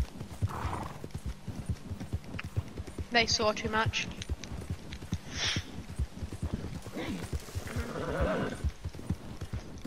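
Horses gallop in a video game, their hooves clip-clopping steadily throughout with a whinny or neigh breaking through, while someone talks over the action.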